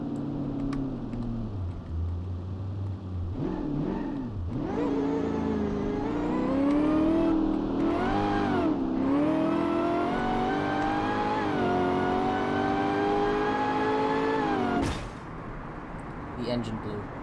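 Corvette C7 sports car engine in BeamNG.drive revving and accelerating, its pitch climbing steadily through gears with brief dips between shifts, loud and close, continuous for most of the run with a sharp cut near the end.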